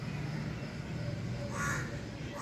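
Crows cawing outdoors during a morning squabble with a black cat over milk, a few harsh caws rising over steady background noise, moderately near.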